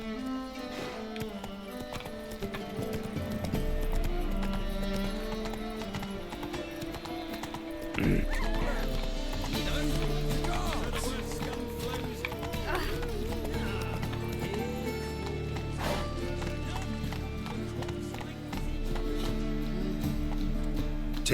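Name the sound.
horse galloping in the video game The Witcher 3: Wild Hunt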